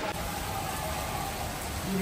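Rain falls steadily all day outside a flooded home, a constant soft hiss of drops with no pauses.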